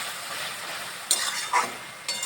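Banana flowers frying in a pan while being stirred, a soft continuous sizzle broken by three brief scraping clinks of a spoon against the pan.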